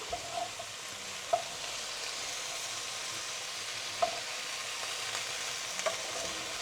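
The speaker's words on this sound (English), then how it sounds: "we're gonna stir the vegetables actually, not the bowl" Vegetables for a tuna casserole being stirred in a bowl, soft continuous scraping and rustling with a few sharper clinks of the utensil against the bowl, close and fairly quiet, no voices.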